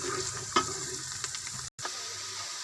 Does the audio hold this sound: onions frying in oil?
yes